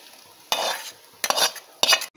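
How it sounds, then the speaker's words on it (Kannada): A tempering of onions fried in hot oil is poured into a pathrode curry, a GSB Konkani dish made with colocasia leaves. Three loud bursts of sizzling and stirring sound up close, with quiet pauses between them. "ಇದರಲ್ಲಿ ಈರುಳ್ಳಿ ಹಾಕಿ ಕೆಂಪಾದ ಮೇಲೆ ಗಸಿಗೆ ಒಗ್ಗರಣೆ ಕೊಡೋದು"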